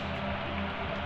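Heavy rain pours down in a steady, dense wash of noise across the open night, continuous and loud throughout with no voices.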